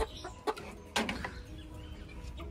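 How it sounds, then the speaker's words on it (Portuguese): An angry rooster in a nest box gives a few short, sharp clucks and squawks close by, with brief rustling between the calls. "Esse galo aqui, gente, tá muito bravo. Ó, ele bica com força."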